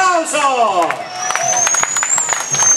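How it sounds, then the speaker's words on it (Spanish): A crowd at a Tinkus Huajchas dance event claps in a dense, irregular patter, close and lively, while a voice speaks loudly over it and a high whistle-like tone runs through. "¡Fuerte los aplausos!"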